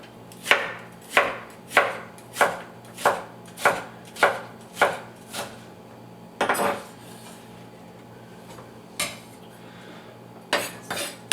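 A knife chops split celery on a cutting board for kung pao chicken: a steady run of about eight crisp, close chops, then a pause and a few scattered cuts. No voices.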